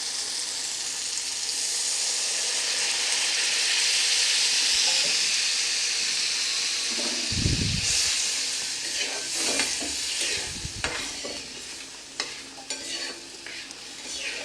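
Water poured into a hot frying pan for egg curry bursts into loud hissing sizzle, settling into steady bubbling and steaming with a few stirring clatters, close and continuous.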